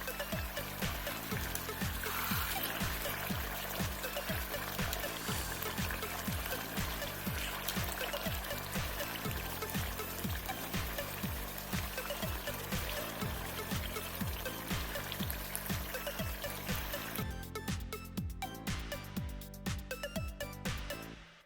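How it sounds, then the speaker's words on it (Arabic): Water poured into a pot with chicken for couscous, a continuous loud close pouring stream lasting around twenty seconds before trailing off at the end. "كنضيفوا ليه الماء الكافي اللي غادي نضج لنا فيه الدجاج"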